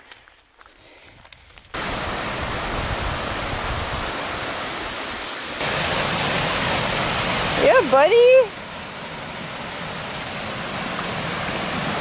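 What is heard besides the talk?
waterfall by a swimming hole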